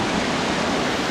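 Waterfall at a summer mountain lake in the Pyrenees, a steady broadband rush of falling water, loud and close, with no voices over it.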